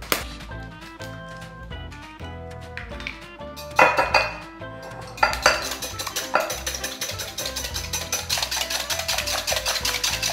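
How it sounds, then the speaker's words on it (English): Eggs being mixed smoothly in a bowl for a pear Dutch baby. A utensil clinks and scrapes against the dish, first in sparse taps and then in a quick steady whisking rhythm that builds louder toward the end, with no voices. "I start with mixing the eggs first and mix them up smoothly before I add the rest of the ingredients"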